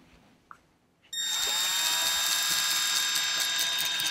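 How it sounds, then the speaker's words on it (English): A power drill starts after a short click and runs loud and steady, boring a hole in a Hobie Outback kayak hull for foot-control steering installation, with no talk. "Drill this hole, and it's gonna go"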